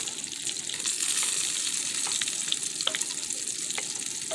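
Rice simmers with broth in a pan for mushroom risotto, giving a dense, continuous sizzle and bubbling with soft stirring underneath and no talking.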